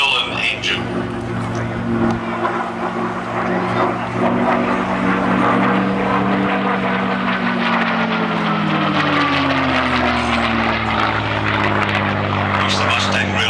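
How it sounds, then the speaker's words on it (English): A P-51D Mustang with its Merlin engine flies past at the Midlands Air Festival air show. Its loud, droning propeller roar holds steady, then shifts downward in pitch as it passes, while a commentator talks over it. "the sound of that fantastic Merlin engine."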